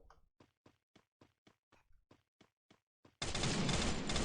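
A FAMAS rifle is fired in Free Fire, giving about a dozen sharp, evenly spaced single shots in a quick steady rhythm, followed by a sudden loud continuous burst of noise at the end.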